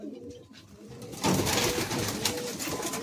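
Old-bloodline Madrasi pigeons coo in a loft, their soft, rolling calls overlapping close by against a busy background of bird sounds and rustling.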